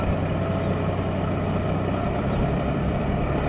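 A tractor pulling a raised bed planter while sowing peas in a field runs with a steady, loud engine drone that never lets up, with no talking.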